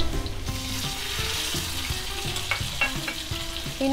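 Shallots and curry leaves fry in hot oil in a steady close sizzle, broken by rhythmic scraping stirs and a few crackling spits.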